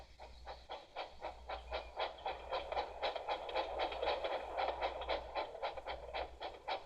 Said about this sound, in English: The driver tied a pad of newspaper tightly round the hole in the brake pipe, and James was able to pull the train.